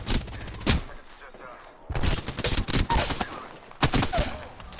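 Bursts of rapid gunfire from an Apex Legends match, loud volleys separated by short pauses.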